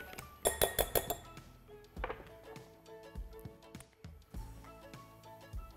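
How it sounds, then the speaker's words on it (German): Spoon stirring a tempeh kebab marinade in a bowl, with quick clinking taps against the dish at first, then scattered knocks and scrapes, fairly faint and close, no talking. "Und dazu muss ich erstmal die Marinade nochmal gut verrühren."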